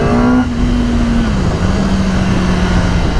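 A 2021 Kawasaki ZX-10 motorcycle engine roars loudly at high revs, holding a steady drone with a quick dip in pitch at a quick-shifter gear change, heard close and alone.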